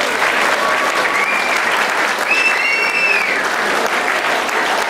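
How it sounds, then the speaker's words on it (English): Loud, sustained applause fills the room for a panel of political speakers at a community meeting in Whangarei, dense clapping with a few whoops and no talk over it. "Please give another round of applause for our panel of speakers."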